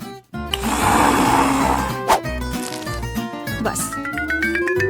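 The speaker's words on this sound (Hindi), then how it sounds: "इन सबको बस एक ब्लेंडर में अच्छी तरह से फेंटने की जरूरत है" A blender whirs loudly as it purees avocado, lemon juice and seasoning sauce, a dense motor drone with a rising whine near the end, starting abruptly after a brief pause.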